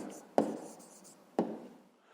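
Pen on paper writing down a numeric answer to a school math problem, two short close scratchy strokes about a second apart, quiet and alone.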